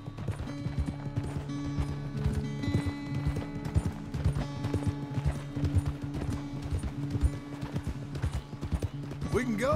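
Rapid rhythmic clip-clop of galloping horse hooves in the video game Red Dead Redemption 2, close and steady, with a low sustained hum and voices talking over it.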